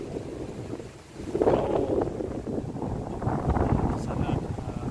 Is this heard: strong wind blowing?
yes